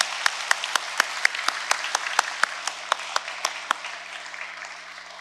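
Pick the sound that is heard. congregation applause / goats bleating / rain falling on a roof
congregation applause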